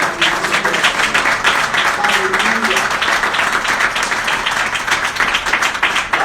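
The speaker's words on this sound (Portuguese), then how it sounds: "E eu queria que você aplaudisse esse Deus" A church congregation applauds steadily throughout, dense clapping filling the room while voices call out over it.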